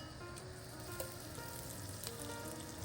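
Butter sizzling in a cast iron pan, a faint, even crackling hiss that holds steady throughout with a couple of tiny clicks.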